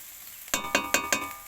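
Pumpkin peel and prawns frying in a pan: a soft sizzle runs throughout, broken by four quick, evenly spaced clinking scrapes close by.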